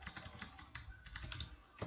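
Quiet, fast typing on a computer keyboard, a steady patter of soft key clicks up close with no voices.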